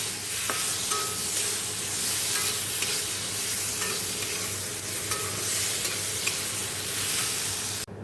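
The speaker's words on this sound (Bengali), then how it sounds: "রাঁধুনি ফোড়ন দিয়ে টমেটো লঙ্কা বেগুনটা একবারে ঢেলে দিয়ে নুন হলুদ একটু মিষ্টি দিয়ে নাড়াচাড়া করে জল ঢেলে দেবো" Brinjal, tomato and green chilli fry in a wok tempered with radhuni, hissing and sizzling steadily and loudly while a spatula stirs and scrapes through them, with no talking.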